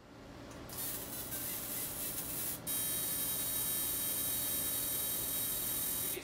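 A Technifor Hybrid laser marks a part, giving a steady, loud hiss with a thin high whine that steps up partway through and holds continuously, with no talking.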